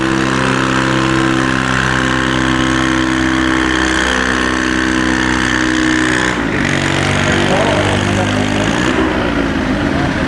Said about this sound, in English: And the John Deere 435 moving along.